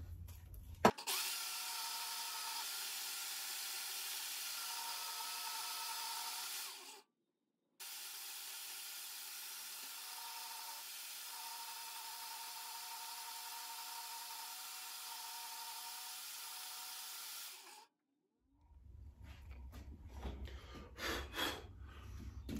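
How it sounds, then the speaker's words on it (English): A portable bandsaw cuts through raw deer antler with a sustained, even whine and grind. It briefly stops around the middle, resumes, then cuts out before other handling noise follows. "it actually cuts really easy on that bandsaw, and I was able to do a pretty good straight cut there"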